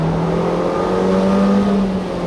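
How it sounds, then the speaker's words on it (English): A 2016 Buick Cascada turbo engine, heard from inside with the top up, hums steadily with a low growl and a faint whine, sustained and fairly loud with no talk. "there is a little bit of that turbo growl, a little bit of that turbo whine"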